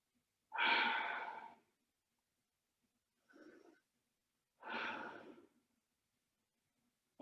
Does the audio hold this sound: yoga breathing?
yes